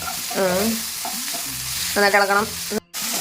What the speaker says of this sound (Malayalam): തക്കാളി ഇട്ട് നന്നായിട്ട് വരാവുന്ന പോലെ ഇളക്കുന്നുണ്ട്